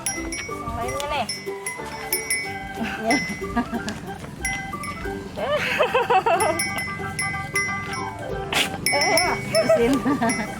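Etawa goats at a farm during feeding, with bleating calls rising now and then over a busy mix of children's voices and chatter nearby.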